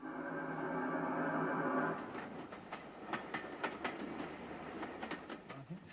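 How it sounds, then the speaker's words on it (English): Trains around Edinburgh's Waverley Station, with A4 steam locomotives pulling out, heard faintly from a distance: a steady tonal hum at first, then a rhythmic clickety-clack of wheels over rail joints. "you've got A4s coming out of Waverley Station and all sorts of trains screaming through them."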